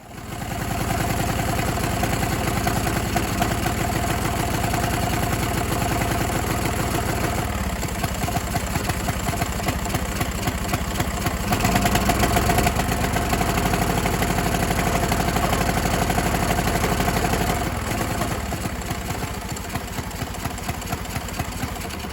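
A small lawn mower engine runs continuously with a fast, buzzing chug, loud and close, its rhythm wavering slightly as it keeps going without stopping.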